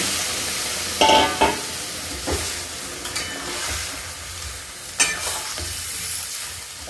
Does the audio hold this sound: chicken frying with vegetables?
yes